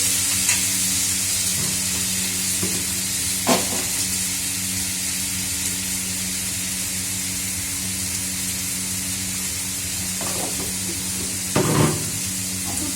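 Bottle gourd fries with turmeric in a pan, making a continuous close sizzle and hiss, with a few stirring scrapes and clinks scattered through it and a louder pair near the end.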